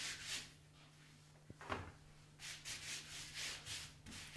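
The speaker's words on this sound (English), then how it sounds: "every now and then it pays just to redust the pasta" Flour is dusted over pasta dough at a pasta machine, giving faint, soft rubbing and brushing strokes in irregular bursts, with a small knock near the middle.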